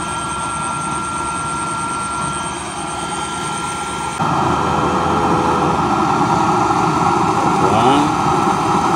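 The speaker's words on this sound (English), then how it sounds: "We will just have to open the blower a little air." Air blower running on a used oil stove, a continuous close roaring whoosh that steps up louder partway through as the air is opened, with a person talking over it.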